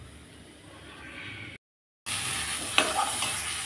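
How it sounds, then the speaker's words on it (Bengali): Spices fry in a pan with raw taro-stem dal, a steady close sizzle with stirring scrapes, briefly cut to silence before the loud frying resumes and a utensil clinks once. "কাঁচা এই কচুর ডালের মধ্যে আমি ভাজা মশলাই অ্যাড করে দেব।"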